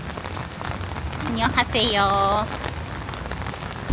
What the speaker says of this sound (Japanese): 雨もだし、あとね、風も結構やばい。